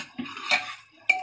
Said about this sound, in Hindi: कुकर में ही आप मैश कर लें थोड़ी सी ना दाल को